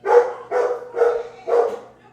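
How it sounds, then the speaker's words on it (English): A dog gives four loud, evenly spaced barks close by, each short and full, with brief quiet gaps between them and no talk. "I hear barking."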